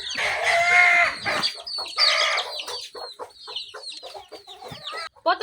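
Chickens cluck loudly and close up in a village yard, with dense overlapping squawks at first, then scattered shorter clucks continuing throughout.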